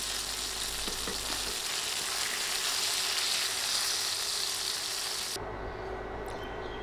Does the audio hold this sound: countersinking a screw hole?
no